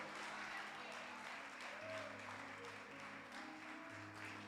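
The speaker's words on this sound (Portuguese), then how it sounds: "Aplauda mais forte ao Senhor." A church congregation applauds together at the close of a service, a sustained wash of clapping with a faint voice underneath.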